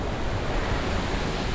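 Ocean waves wash steadily beside a villa's infinity pool in Bali, a continuous broadband surf roar with some wind buffeting the microphone and no voices.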